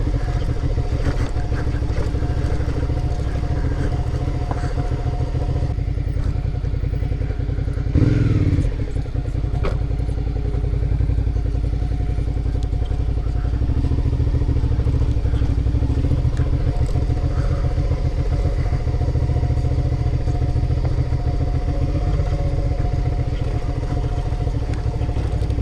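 A Suzuki V-Strom 650 motorcycle ridden off-road across Utah: a steady close engine drone with clattering from the rough ground, a short louder thump partway through, and the rumble holding for the whole stretch.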